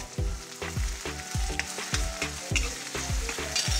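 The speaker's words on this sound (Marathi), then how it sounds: "कांदा छान परतून घ्यायचा आहे लालसर कलर येईपर्यंत।" Onion frying in a pan, a constant sizzle broken by regular scraping strokes of a spoon stirring roughly every half second, close and clear.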